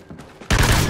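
Burst-fire gunfire in the Call of Duty: Ghosts multiplayer shooter erupts abruptly halfway through: a loud, dense volley that follows a quieter stretch and keeps going to the end.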